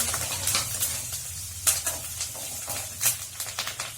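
Curry leaves and golden onions sizzle in a pan for a catfish curry, with steady frying crackle, a low hum and sharp scraping stirs of a spoon at intervals, close and moderately loud.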